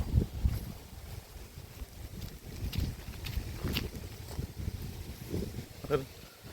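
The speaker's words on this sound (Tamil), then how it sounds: "எப்படி காற்றடிக்குது பாருங்க" Strong wind buffets the microphone in a continuous, gusty roar, with low rumbling bursts throughout.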